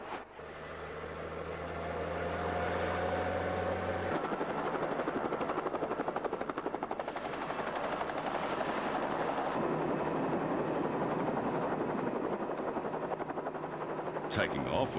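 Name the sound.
helicopter flying over outback savanna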